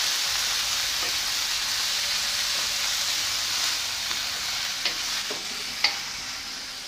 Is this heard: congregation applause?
no